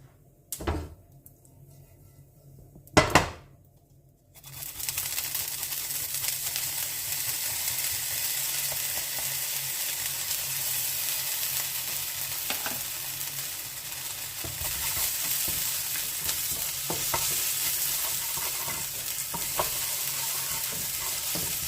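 Mustard seeds crackle and spatter in a spoonful of hot ghee in a home kitchen pan, a steady dense sizzle with scattered pops, preceded by a couple of sharp clatters of utensils.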